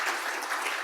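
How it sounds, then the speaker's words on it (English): A short burst of steady audience applause for speakers at an arbitration conference session, even and moderately soft throughout. "the speakers also deserve an applause and a thank you"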